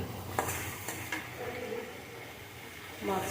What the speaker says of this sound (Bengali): আবার আমি ভালো করে কষিয়ে নেব